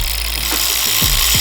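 An angle grinder cuts metal during a TH400 transmission valve body job, a loud, steady, continuous whine and rasp that fills the clip without a break.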